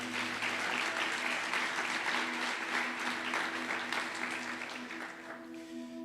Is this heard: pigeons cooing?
no